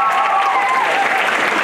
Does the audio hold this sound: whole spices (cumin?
no